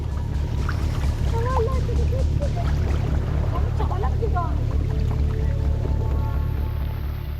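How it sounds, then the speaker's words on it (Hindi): Floodwater rushes through submerged city streets as a steady, dense roar, like a river running, while a voice talks over the continuous wash of water. "सड़क पर सैलाब ऐसा बह रहा है मानो नदी हो"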